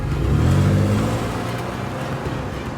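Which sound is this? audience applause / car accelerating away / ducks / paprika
car accelerating away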